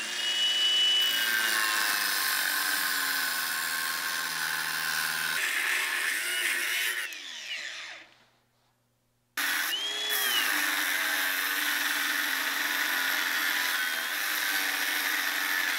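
A bandsaw cuts through a Damascus steel canister with a steady, high-pitched grinding whine. The whine drops off into near silence for about a second, then resumes at full strength and runs on.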